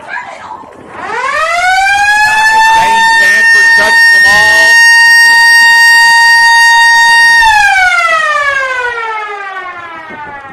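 A loud, sustained siren wails at a steady pitch for several seconds at a baseball game, then winds down, with a voice talking over it and crowd noise underneath.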